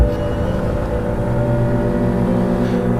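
A motorbike turns around and revs, its engine note a steady, loud drone with rising harmonics that holds close for about three seconds, no voices over it.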